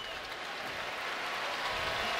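Dense, steady applause and crowd roar fill a stadium at an LSU versus Wisconsin football game in Houston, continuous and loud, with a commentator's voice faintly under it.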